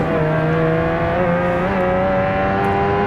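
A steady, droning motorcycle engine in the racing game Ride 2, a ZX7RR at the Nürburgring, holds a sustained, even tone with little change in pitch, loud and continuous throughout.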